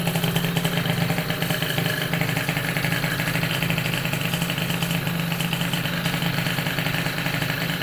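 Small engine on a Zombie Zip scooter having just started, idling steadily with a constant close, loud mechanical putter and no change in rhythm.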